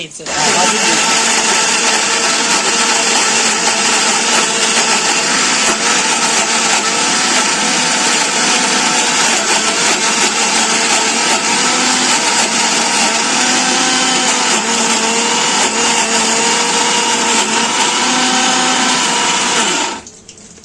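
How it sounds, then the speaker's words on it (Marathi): Mixer grinder blending onion, garlic, coriander, tomato and ginger into a paste for veg dum biryani, a loud steady whirring roar running continuously for about twenty seconds before cutting off abruptly. "इकडं असं वाटण वाटायचं आहे कांदा लसूण कोथिंबीर टोमॅटो आलं"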